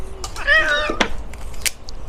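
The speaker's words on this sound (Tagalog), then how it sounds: "Di ko nakita ng pusa." A cat meows once with a rising and falling call, close and fairly loud, in a home kitchen, with people talking nearby and household clatter around it.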